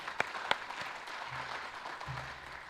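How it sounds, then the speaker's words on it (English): A conference audience claps for the event's gold sponsors, a faint, diffuse patter of applause in a large room with a couple of sharper claps near the start. "So round of applause for our gold sponsors."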